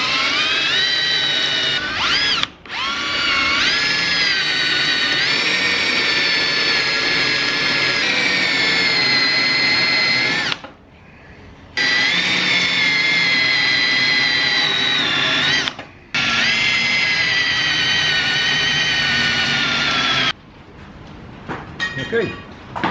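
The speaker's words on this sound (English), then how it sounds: "So let me get the drill and start on this." A handheld drill bores out spot welds on a Nissan 180SX body shell in several long, whining bursts that rise and dip in pitch as the bit cuts, separated by short pauses, heard up close.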